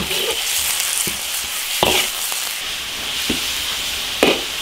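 Thin-sliced pork stir-fried hard with seasoning, sizzling steadily up close while a spatula knocks and scrapes the pan a handful of times at uneven intervals.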